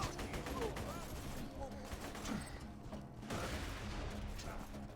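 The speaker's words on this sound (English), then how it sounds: "Just follow the sound of gunshots. They're all around me." Gunfire from Borderlands 2, scattered bursts of shots popping all around at moderate loudness amid game mechanisms and background rumble, with a voice talking over parts of it.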